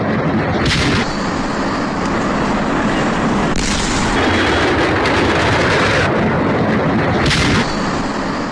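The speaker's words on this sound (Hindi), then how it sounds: "एक पटाखा फैक्ट्री जहां पर यह धमाका हुआ" An explosion at a firecracker factory: a powerful blast roars out, followed by a sustained, loud rumbling crackle of explosions and debris, with heavy noise filling the whole stretch.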